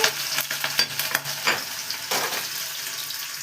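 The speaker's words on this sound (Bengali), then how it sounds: "তার সাথে আমি একটু ধনিয়া তড়কা লাগাচ্ছি, আদরক, পেঁয়াজ, হারি মির্চি" Coriander, ginger, onion and green chili tempering in a pan with potatoes and capsicum, a loud crackling sizzle broken by repeated clattering stirs, with no talking.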